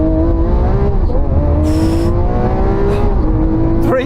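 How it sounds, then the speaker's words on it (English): Lamborghini Aventador S during a launch start: a loud, close engine roars and climbs through the revs, with quick gear shifts breaking the rising tone, and no one talking over it. "Right, I'm going to launch this Aventador S."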